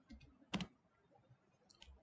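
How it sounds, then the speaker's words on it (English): Code is typed on a computer keyboard in a few soft, sparse clicks with a slightly louder double tap in the middle, heard close and quiet with no talking. "I am typing const user"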